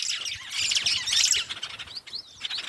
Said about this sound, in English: there are so many little birds up here